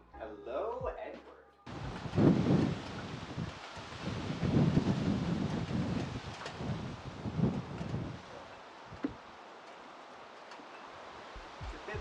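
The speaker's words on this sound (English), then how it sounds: "Bloody windy out today." Strong wind gusting outdoors, buffeting the microphone in loud, roaring bursts that rise and fall over several seconds before easing into a softer steady rush.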